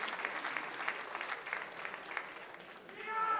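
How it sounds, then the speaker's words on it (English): An audience at a professional wrestling show applauds steadily, a dense wash of clapping, while a voice talks over it. "And a round of applause"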